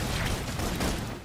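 Sustained suppression gunfire in the game Love & Deepspace, a dense unbroken burst of rapid shots at steady loudness, busy and layered rather than spaced out.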